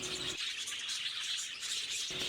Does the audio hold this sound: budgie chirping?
yes